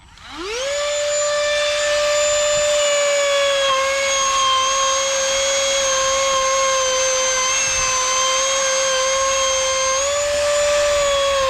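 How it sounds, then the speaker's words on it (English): A Dremel rotary tool grinding corrosion from a used Jeep XJ 4.0 7120 cylinder head, spinning up quickly to a steady, loud high-pitched whine that holds for several seconds with slight pitch dips. "I'm definitely going to take my Dremel tool and remove this corrosion in here"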